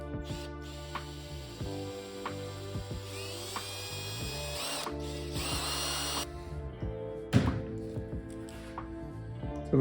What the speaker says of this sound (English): So it looks like I was able to just drill out the screw.